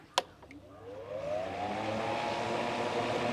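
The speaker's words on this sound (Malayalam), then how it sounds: "ഇനിതാ ഞാൻ ഫാനിൻ്റെ സ്വിച്ച് ഓൺ ആക്കുകയാണ്" A powerful fan in a homemade air cooler clicks on and spins up, its whirring tone climbing over a second or two before settling into a loud, steady rushing hum.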